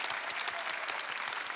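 Sunday worship congregation in a Korean church applauding, a brief burst of dense, steady clapping from many hands with no voices over it.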